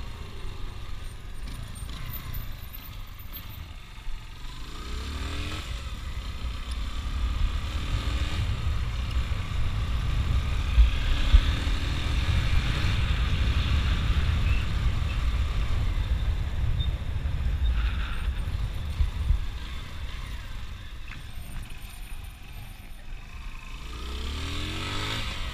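Yamaha XTZ motorcycle engine droning steadily and revving through a wheelie attempt, a continuous loud low rumble with rising pushes near the middle, heard close with no talking.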